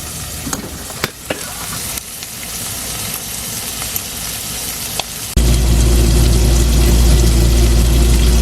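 Ground meat for a bolognese sauce is pressed flat with a spatula, tapping and scraping against the pan over a light sizzle, then a loud, steady, crackling fry takes over as it is left to crisp.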